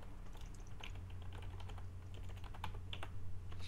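Rapid, soft clicking of keys on a computer keyboard, steady and fairly faint, with no voices during a Minecraft Hunger Games match.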